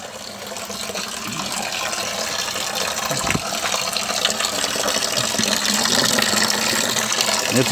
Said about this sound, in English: I'm going to fill it back up with water and let it run for a minute